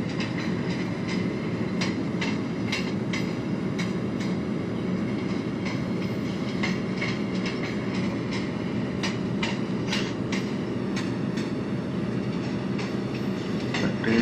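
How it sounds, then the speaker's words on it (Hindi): A WDM3 diesel locomotive hauling the Pataliputra Express near Patna Junction in a train simulator: a steady, loud rumble of engine and rolling wheels, with rhythmic clickety-clack joints throughout and no talk. "देख रहे हो हमारा डीजल लोकोमोटिव ये मुगल साइकिल डीजल लोकोमोटिव है WDM3 है"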